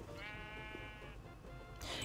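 A Minecraft sheep gives one drawn-out bleat, a wavering nasal cry lasting about a second, loud and near against steady game background noise.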